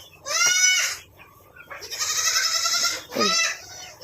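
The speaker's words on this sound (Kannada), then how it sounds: "ಇವೆಲ್ಲ ಇವಾಗ ಬರ್ತಾ ಇರೋದು ಆಡುಗಳು" Goats bleating on a farm, three loud wavering calls with short pauses between them, close by and clear with no talk.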